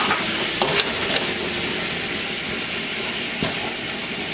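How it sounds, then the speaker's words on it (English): Margarine being stirred into a pot of ackee and salt fish, a continuous soft sizzling hiss with a few faint scraping clicks, steady and close with no talking. "And with a little bit of margarine in the pot, stir it in."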